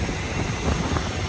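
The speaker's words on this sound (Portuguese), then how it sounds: "o avião que vai levar a gente, um Bombardier Q400." Steady broadband roar of a Bombardier Q400 turboprop airliner, loud and continuous with a low engine rumble, no voices.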